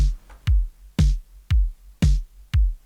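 A drum loop with a steady beat: deep kick hits alternate with bright, crisp snare cracks, about two strikes per second, close and loud.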